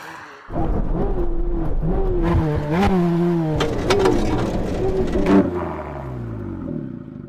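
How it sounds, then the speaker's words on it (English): Corvette Z06 and Ford GT in a full emergency stop from 100 mph: loud, close engine and drivetrain tones that waver, then slide downward with whirring and clatter as the cars slow, with no talking. "When we reach the cones, we're going to do a full emergency stop."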